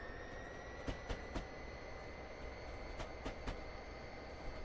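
Train running in Train Simulator 2018, a steady low engine and track rumble with periodic sharp clicks like rail joints passing, moderately quiet and without talk.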